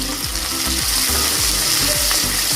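Capsicum and green chillies fry loudly in a hot pan for chilli chicken, a dense continuous sizzle broken by regular scraping stirs of a spatula, close and without voices.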